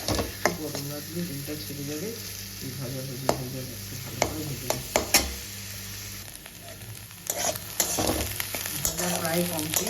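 Egg frying in a hot pan with mustard oil alongside capsicum, stirred repeatedly; steady sizzling runs throughout with sharp scraping stirs and utensil clicks, close and fairly loud, no talk.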